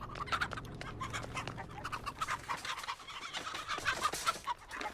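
A chicken clucking and squawking frantically in the Texas Chain Saw Massacre video game, repeated agitated clucks across the whole stretch over low ambient rumble, with no talking.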